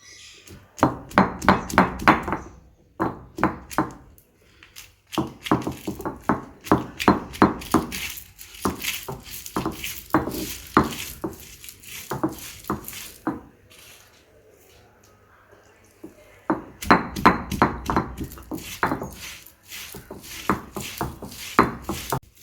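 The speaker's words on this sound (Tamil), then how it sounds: "இஞ்சி பூண்டு கசகசா கொஞ்சோண்டு மல்லி ஆமாம் எல்லாத்தையும் வச்சு இப்போ அரைக்க போகிறோம்" Poppy seeds, ginger, garlic and coriander being ground by hand on a stone: bursts of rapid rhythmic scraping and grinding strokes, close and fairly loud, with a quieter pause in the middle.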